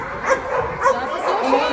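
A dog at an agility competition yips and barks in a quick rhythmic series of short, excited calls. A commentator talks over it, with crowd ambience in the background.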